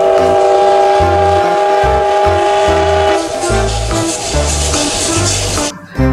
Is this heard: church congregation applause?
no